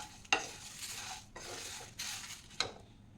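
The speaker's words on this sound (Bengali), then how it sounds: "এই শুকনো খোলায় অল্প আঁচে একটু নেড়ে নেবো" Whole spices dry-roasting in a dry pan over low heat, stirred in a few distinct scraping strokes against the pan with a faint sizzle between them, quiet and close, no voices.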